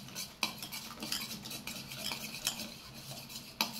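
A spoon stirs and mixes an onion and chilli omelette batter in a bowl, giving steady scraping and clinking with a few sharper knocks against the dish, close and fairly quiet, with no talking.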